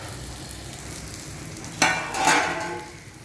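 Sabudana khichdi cooks in a pan with a quiet simmering hiss that swells into a sharp, loud sizzle as the pan is stirred, then fades slightly toward the end; no speech.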